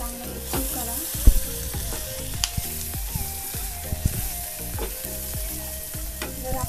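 Egg biryani rice being stirred as it fries in oil, a steady loud sizzle broken by repeated scraping strokes of a spoon against the pan, close and with no talking.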